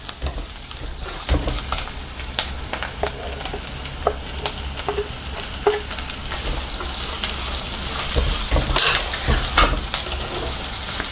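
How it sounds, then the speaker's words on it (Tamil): Onions and tomatoes sauté with rock salt in a pan for a village-style mutton kuzhambu, a steady sizzle broken by repeated scraping stirs of a spoon against the pan. "நல்லா வதக்கி விடுங்க."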